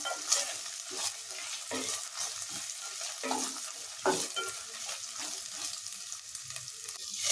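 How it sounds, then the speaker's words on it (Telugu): Ginger garlic paste frying gently on a low flame for bagara rice, stirred with a spoon; intermittent scraping and soft sizzling, close and moderately quiet, with no talking. "అల్లం వెల్లుల్లి పేస్ట్ మాడకుండా చక్కగా స్టవ్ సిమ్లో పెట్టుకుని తాయితీగా వేపించుకోవాలి"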